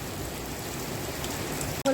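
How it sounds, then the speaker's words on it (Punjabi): Steady rain pours on hard outdoor surfaces, a dense continuous hiss of drops close by with no voices. "ਅੱਧਾ ਘੰਟਾ ਹੋ ਚੱਲਿਆ ਮੀਂਹ ਪੈਂਦੇ ਨੂੰ"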